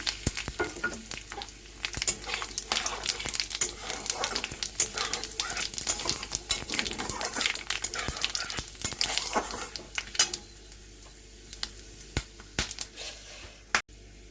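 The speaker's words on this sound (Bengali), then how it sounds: "তাতে গোটা গরম মশলা, তেজপাতা, একটা শুকনো লঙ্কা আর সাদা জিরে ফোড়নে দিয়ে দিলাম" Whole garam masala, a bay leaf, one dried red chilli and cumin seeds sizzle in hot mustard oil, a close, crackly spatter with sharp pops and stirring that thins out toward the end, broken by one last crisp pop.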